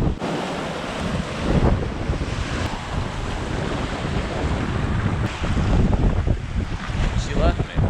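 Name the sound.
rough sea waves at the beach, Starfish Point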